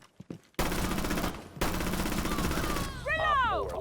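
Rapid automatic gunfire in Rainbow Six bursts in loud sustained volleys, followed by whooshing, warbling effects.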